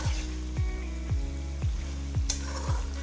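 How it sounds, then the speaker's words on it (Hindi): Beef karahi with black pepper frying on high heat, a steady sizzle under a rhythmic series of six low thuds roughly every half second, with one sharp bright clink near the end. "तेज़ आंच करके हम इसकी भुनाई करते हैं।"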